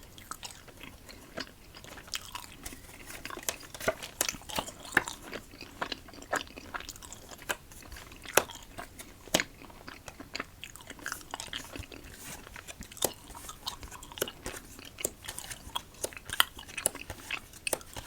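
Close, quiet chewing of a soft coconut protein bar, with a steady run of small moist bites and crunchy clicks and no talking.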